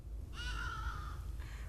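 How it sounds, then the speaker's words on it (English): A black crow gives one loud drawn-out caw followed by a shorter second call, part of an aggressive flock mobbing a hawk, heard fairly near against a low rumbling background. "a hawk is falling into a pincer movement when surrounded from all sides by an aggressive flock of black crows"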